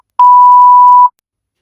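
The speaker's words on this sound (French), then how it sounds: "Je vais juste biper le prénom." A loud, clean electronic censor beep, one steady tone lasting just under a second, sounds alone against silence.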